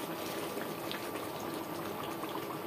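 Rui fish curry gravy simmering in a covered pan, a dense, steady bubbling and crackling hiss that holds at an even level throughout.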